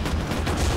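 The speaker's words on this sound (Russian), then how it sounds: "Пушка вообще мощная." Armored car cannon fire in a zombie racing video game, a dense rapid burst of heavy booming shots blended into a loud continuous roar with no pauses.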